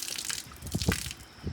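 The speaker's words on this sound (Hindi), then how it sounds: "प्राइमर लगाए, अब इस पर मैं पानी फेंकता हूँ" Water splashed by hand against a freshly primed exterior house wall, a few quick wet splashes and gushes close by, with short bursts of spattering and dripping.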